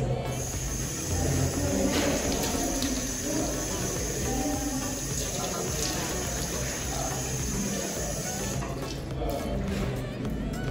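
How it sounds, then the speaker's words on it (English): Water runs steadily from a tap as a face is washed at a sink, with a continuous splashing hiss through most of the clip and a change near the end. "So I'm going to wash my face."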